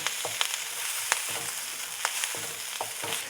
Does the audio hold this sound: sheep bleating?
no